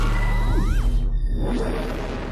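A warp-opening sound effect: a dense, noisy whoosh with rising and falling pitch sweeps, followed by a warbling oscillator tail that wavers and fades, loud and alone.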